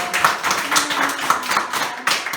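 A church congregation claps to welcome first-time visitors at a New Year's Sunday service, a steady patter of many hands with quick irregular beats, fairly close and without voices.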